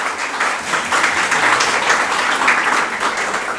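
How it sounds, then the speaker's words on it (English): Audience at a youth dialogue event gives a short, even round of applause for a panelist. The clapping is steady and moderately loud, with no talk over it. "So let's give a round of applause for her."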